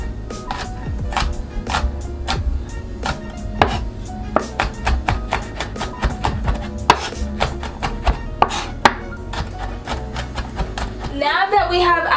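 A knife mincing smashed garlic on a cutting board, rapid irregular sharp chops close by, fairly loud, with a pause near the end and a brief rustle.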